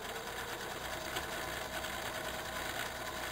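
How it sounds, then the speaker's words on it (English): A sewing machine runs continuously, stitching around the edge of a hooded beach towel, a fast steady mechanical whir and rattle with no pauses. "now what we do is we just sew all the way around"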